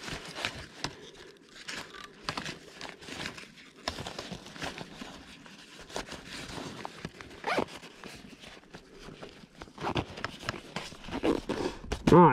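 Backpack being zipped up beside a trail, several short scratchy zipper pulls among rustling and handling noises, with a louder pull near the end.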